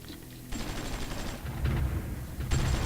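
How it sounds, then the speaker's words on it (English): Artillery fires in the war strategy game Supreme Ruler 2020, set in Vietnam: rumbling bursts of gunfire and low booms come in waves, swelling and fading against a continuous battle din. "Artillery."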